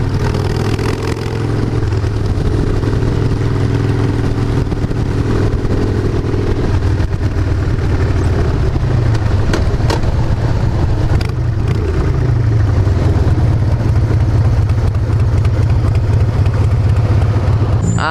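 A newly acquired motorcycle idles steadily up close, its engine holding a loud, even low rumble with slight wavering in pitch throughout, and no one speaking.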